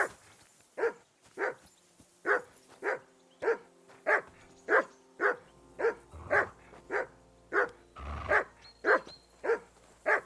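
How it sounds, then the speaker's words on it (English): A dog in the video game Kingdom Come: Deliverance 2 barks about fifteen times in an even, insistent rhythm, close and clear against a quiet background with a faint low hum. "Call off that damn dog"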